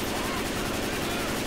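Dense, rapid gunfire rattles continuously in a fast automatic burst, loud and close, in the video game Left 4 Dead 2.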